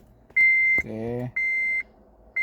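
Dashboard chime of a 2011 Honda Civic with the ignition on: a loud, steady tone sounding in long pulses, with a brief voice cutting in between them.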